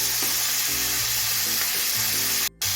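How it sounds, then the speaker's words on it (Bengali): Mixed vegetables stir-frying with green chilli and salt for a Chinese-style vegetable dish, a brief close, steady sizzle with stirring, ending in a sudden short dropout. "সব কিছু ভালো করে নুন সবজিটার সঙ্গে ভালো করে মিশিয়ে নিচ্ছি"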